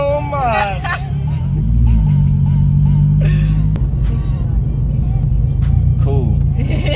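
A 500hp turbocharged Toyota 86 pulls hard under throttle, its engine note climbing and holding loud and close from inside the cabin, with a few voices talking over the drone.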